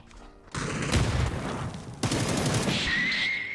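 Video game gunfire in two sharp bursts of rapid shots, loud and close, the second burst followed by a high tonal ring, with no talk.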